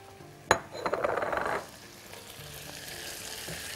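Onion and small-cut chicken pieces stirred and frying in a pan: a sharp clink, then a brief loud sizzle and scrape for about a second before settling to a faint, steady hiss.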